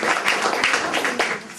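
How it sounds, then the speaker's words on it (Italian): An audience applauds for Laura at an Italian stage performance: a short burst of scattered hand clapping, fairly close and loud. "O anche un applauso a Laura"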